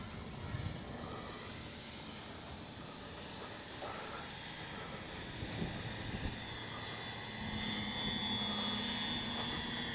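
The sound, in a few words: radio-controlled model airplane flying overhead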